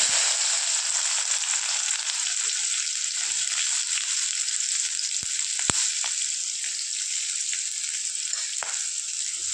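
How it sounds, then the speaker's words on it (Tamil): Mustard seeds splutter in hot oil for an okra poriyal, a dense continuous hiss with a few sharp pops, loud and close, with no talk. "இப்போ பாருங்கள் கடுகு பொரிய ஆரம்பிக்குது"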